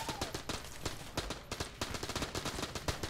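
Rapid automatic AK rifle fire from the Enter the Gungeon video game, a dense continuous stream of sharp shots with overlapping game effects, loud and sustained throughout.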